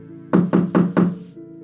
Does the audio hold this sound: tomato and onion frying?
no